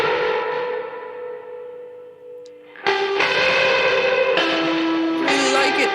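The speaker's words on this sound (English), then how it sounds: "It's a reverb going into a guitar rig. Just a bunch of distortion, and out of it reverb again." Electric guitar run through a rig drenched in reverb and distortion, a sustained, lush and wide wash that swells louder after a brief dip and keeps ringing with long tails.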